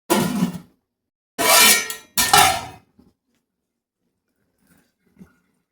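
Lid placed on a cooking pot while paneer biryani is prepared, heard as a few sharp metallic clanks and scrapes in quick bursts, close and fairly loud, followed by near silence with faint small knocks.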